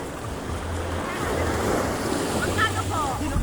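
Waves break and wash on a beach at San Juan, Laiya, Batangas, a steady surf hiss mixed with wind noise and a low boat engine hum.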